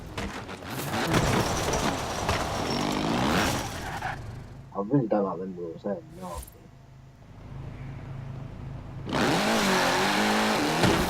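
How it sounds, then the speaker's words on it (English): Car engine revving and accelerating in the racing video game Forza Horizon 4, a rally-car-like engine note rising and falling between stretches of someone talking over it. "Sounds alright, it pretty much sounds like the rally car and the rally cars in this game"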